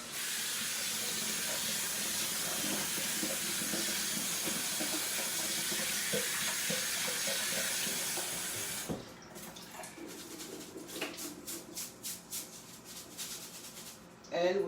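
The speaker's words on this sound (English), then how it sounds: "And we're going to wash our rice." Tap water runs in a strong, steady hiss for about nine seconds while rice is washed, then cuts off, leaving quieter sloshing and swishing of grains in water.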